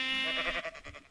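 A single short sheep bleat from Minecraft, wavering and fairly faint, ends within about a second.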